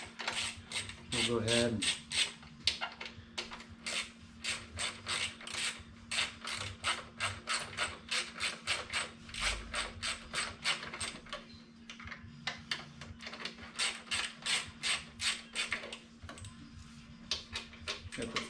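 Ratchet clicking in rapid bursts as bolts are loosened from the air box of a Triumph Tiger 900 Rally Pro motorcycle, close and steady, with brief talk near the start.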